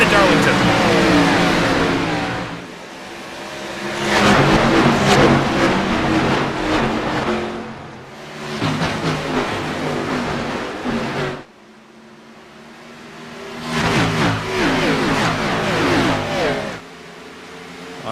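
Xfinity Series stock cars roaring around Darlington in a sim racing game, engines surging and fading in repeated waves as the cars pass and accelerate, loud and close.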